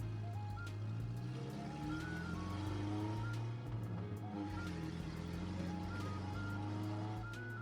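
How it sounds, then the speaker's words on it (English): A car in the game Miracle Snack Shop starts up and drives off, its engine tone rising and falling in smooth sweeps. Faint background sounds sit under the steady motor hum. "Once the hassle of putting on a seatbelt was over, I started up the car."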